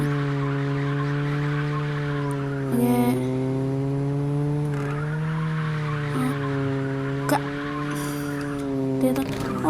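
A car drifts in the racing video game CarX Street, its engine holding a steady droning whine while short tire squeals and skid bursts cut in every few seconds.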